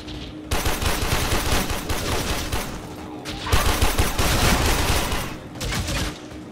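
Heavy gunfire in the video game Warframe during co-op play: dense, sustained automatic shooting roars continuously at close range, with two brief dips in the barrage.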